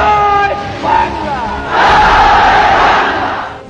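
A large crowd loudly chants the Liberation War slogan Joy Bangla, two rising shouted calls in unison ringing out close and strong.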